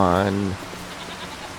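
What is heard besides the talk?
goats bleating in Farming Simulator 25 video game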